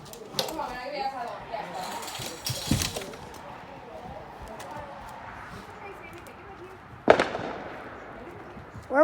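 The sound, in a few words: fireworks being set off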